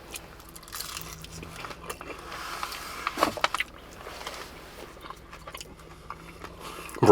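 Someone eats a greasy ground-sausage deli sandwich with chimichurri at a New Jersey deli, with close, quiet chewing and one crisp bite midway.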